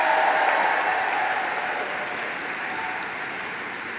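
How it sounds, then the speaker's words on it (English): An audience at an awards show applauds in a dense, steady wash of clapping that swells at first and then eases slightly while staying loud throughout. "can we have another round of applause for Angelique Kidjo?"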